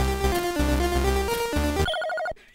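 Electronic telephone ringing from a phone booth in the Commodore 64 game Target: Renegade, a chiptune melody giving way to a rapid repeating ring pattern, loud and close with no talk.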